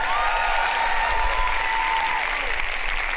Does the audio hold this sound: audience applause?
yes